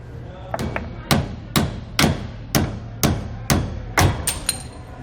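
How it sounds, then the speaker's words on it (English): A hammer taps out the leaf spring bolts on a 2013 Dutchmen RV suspension, about nine sharp metallic blows in a steady rhythm roughly every half second, loud and close. "then we're just going to tap them out"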